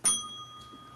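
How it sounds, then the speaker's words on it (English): A timekeeper's reminder bell at a candidates' debate rings once, a single bright chime fading with a sustained metallic tone, clear and fairly close. "So the reminder bell sounds like this,"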